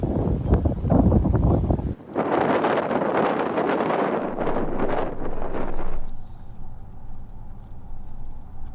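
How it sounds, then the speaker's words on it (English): Strong gusty coastal wind of 70 to 80 km/h in Twillingate, Newfoundland, roars and buffets the microphone, surging in heavy blasts before easing to a steadier low rush. "It's got to be blowing 70, 80 kilometer gusts right now."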